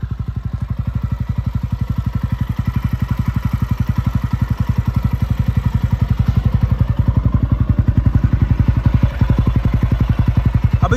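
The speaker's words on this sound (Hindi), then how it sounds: "सबसे पहले ये टी वी रोनिन आवाज़ कैसा करती है ये देखना ये देखो इसका नॉर्मल साउंड है" A TVS Ronin 225cc motorcycle idles steadily up close, its exhaust thumping in a fast, even rhythm with no voices over it.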